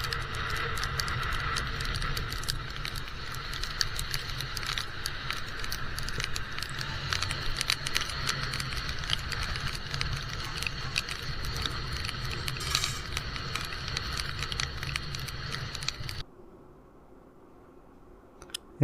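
Rain patters steadily during a motorcycle ride from Srikakulam toward Puri on a cement road, with a constant broadband wash that stops abruptly near the end, leaving near silence.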